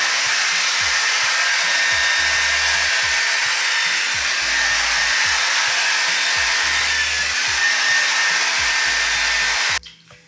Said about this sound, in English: Blow dryer with a concentrator tip to direct the airflow